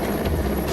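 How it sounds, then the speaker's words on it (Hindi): An Indian Air Force rescue helicopter drones with a steady, loud rotor and engine roar that stays constant throughout. "सुबह वायुसेना का हेलीकॉप्टर मोर्चे पर उतरा"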